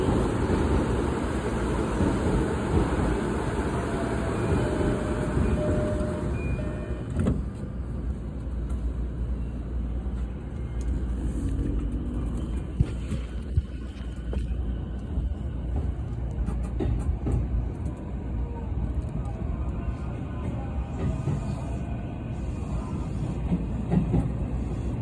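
JR Chuo Line Rapid commuter train bound for Tokyo pulling into a platform at Shinjuku Station in Tokyo, a steady loud rumble and wheel noise filling the whole stretch with faint clattering, no speech.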